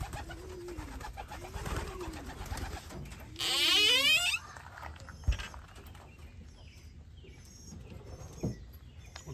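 Racing pigeons coo in the loft, giving several low rolling coos in a rhythmic sequence. A brief burst of wing flapping or rustling comes partway through, over a steady background hiss.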